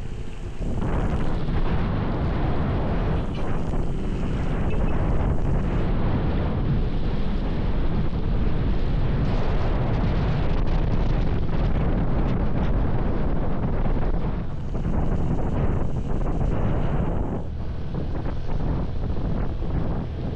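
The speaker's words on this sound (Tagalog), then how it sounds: "Grabe hangin." Strong wind roars straight into the microphone during a ride on a Suzuki Burgman Street 125 scooter, a loud, continuous buffeting rumble that swells and eases slightly with no voices.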